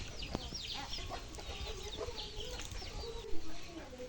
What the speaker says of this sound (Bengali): আমার বোনের বাড়ির মুরগগুলা কিন্তু বেশ বড় দেখতেছি